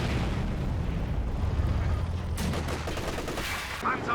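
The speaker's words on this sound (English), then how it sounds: "Panzerwerfer coming in shortly." Panzerwerfer rocket artillery barrage in Company of Heroes 2: dense, continuous rumbling blasts and crackling impacts fill the whole span, with a sharper burst of overlapping explosions in the second half.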